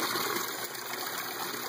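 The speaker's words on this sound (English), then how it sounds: "It's draining much slower" Water drains from a 40-gallon aquaponic tank through a bed siphon in a steady, hissing, trickling rush, close and continuous with no voices.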